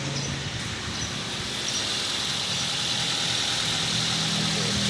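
A cold car engine idles at a raised speed just above 1000 RPM, a steady low rumble with a faint whirring layer, continuous and close.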